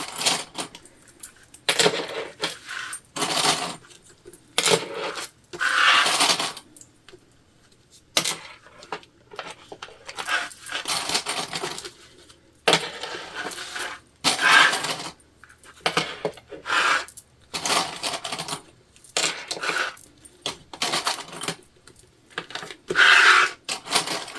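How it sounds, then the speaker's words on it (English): Sewing clips snapped onto the right-sides-together fabric edges of a leopard-print tote bag panel, a long series of short, close clicks and handling rustles repeating at an irregular working pace, no talk. "And we're just going to clip all the way around."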